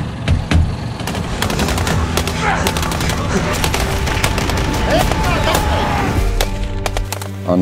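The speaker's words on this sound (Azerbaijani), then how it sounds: "Sonra tankların, minomyotların atəş səsləri gəlir." Battlefield gunfire from tanks and mortars, with rapid bursts of shots and heavy booms crowding one after another at close range, loud and continuous throughout, with voices faintly underneath.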